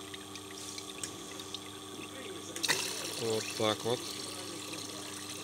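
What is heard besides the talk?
water filter controller running flush cycle with water flowing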